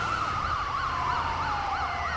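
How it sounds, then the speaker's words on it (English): Two wailing ambulance sirens in GTA 5 overlap, rising and falling in a steady rapid cycle, loud and continuous with a low engine rumble beneath. "Go for some dual siren action"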